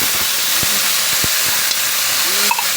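Sardines frying with browned garlic and onion in a pan give a steady loud hiss and sizzle, with a few brief clicks and taps over it.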